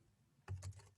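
A few quick keystrokes on a computer keyboard, a faint short burst of clicks typing a search phrase, with no talking.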